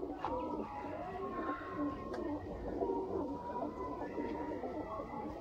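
Soft, repeated coos from a pair of banka pigeons over a steady low background hum, with a few faint chirps scattered throughout and no talking.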